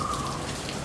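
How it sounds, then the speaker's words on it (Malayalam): Steady rain falls continuously, a dense even patter filling the brief moment with no voices. "മഴയൊന്നും മാറിയിരുന്നെങ്കിൽ"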